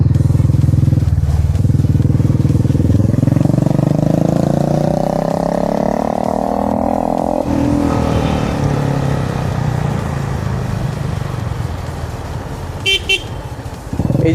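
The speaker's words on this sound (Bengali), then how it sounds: "এখন উইলি মারবো দুজন একসাথে" Motorbikes revving and riding on a road during a failed attempt at two-up wheelies, engine pitch rising steadily before dropping back, with a brief horn toot near the end; loud and close throughout, no talk.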